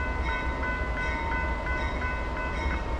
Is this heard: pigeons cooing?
no